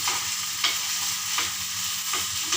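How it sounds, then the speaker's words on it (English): Sabudana (sago) khichdi fries in an uncovered pan, a close, even sizzle with three regular scraping stirs. "I'm constantly stirring it"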